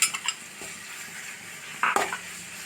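Spiced chicken fries in a pan with ginger-garlic paste and chili powder, giving a close sizzle under sharp scraping and clinking strokes from a spoon against the metal, with no speech.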